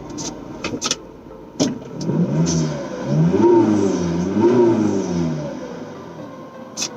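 A Volkswagen Transporter van engine, in neutral with a modified air filter, revs up and down in several swells, a rising and falling mid-pitched roar, with a few clicks and knocks at the start and end.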